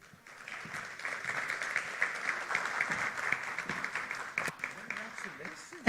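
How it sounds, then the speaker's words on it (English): An audience at a CIO summit grand finale claps for a speaker who has just finished, the applause starting softly then holding at a moderate, fairly steady level of dense clapping, with a sharp knock at the end. "that deserves a much louder applause"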